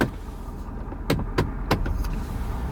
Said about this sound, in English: That's putting the truck in drive.